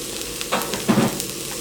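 Garlic and ginger hit hot oil with a short crackling sizzle, a few sharp pops and stirring scrapes close up.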